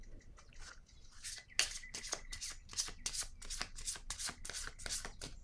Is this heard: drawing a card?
yes